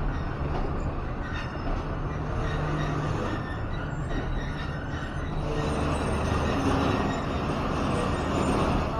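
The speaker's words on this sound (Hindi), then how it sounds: "ट्वेंटी थाउजेंड हॉर्स पावर का अमेरिकन लोकोमोटिव लगा हुआ है इसको" A train hauled by a 20,000-horsepower American locomotive rolls through Lala Musa Junction in Pakistan, a loud, steady rumble of wheels and carriages with some squeal, continuous and close for the whole stretch.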